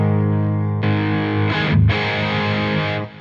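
Electric guitar through an Origin RD Compact Hot Rod pedal with every control at noon, giving a crunchy distorted tone: one chord rings out, then a louder chord is struck and sustained, with a brief scratchy change before it fades.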